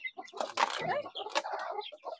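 Native Bisaya chickens on a poultry farm flapping their wings in noisy bursts, mixed with clucking and squawks, close and fairly loud over about two seconds.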